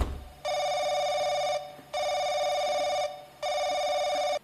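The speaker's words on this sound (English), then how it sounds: "Picking up the phone." An old-style telephone bell rings in the horror video game The Crooked Man, three loud, steady bursts of about a second each, separated by short pauses.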